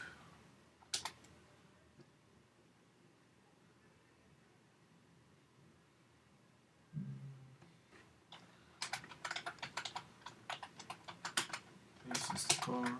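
Code is typed on a computer keyboard in quick, irregular bursts of clicks near the end, with a few isolated taps and a soft thump earlier, all close and fairly faint.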